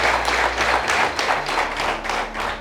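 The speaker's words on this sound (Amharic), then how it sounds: "አጨብጭቡላቸው።" An audience claps at a product launch event in a hall, with dense, steady applause from many hands that keeps going the whole time.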